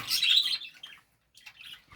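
Caged finches giving bright high chirps and tweets, a dense burst at the start then scattered calls after a short silence, close and fairly loud with no speech.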